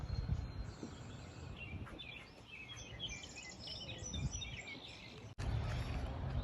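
Morning birds chirp and tweet in scattered overlapping calls beside a river where people are canoeing, fairly faint over a steady outdoor rumble, with faint insect buzz in the background.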